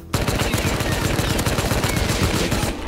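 Rapid automatic gunfire in Rust rattles loud and close, a steady burst of closely spaced shots lasting a few seconds with no talk over it.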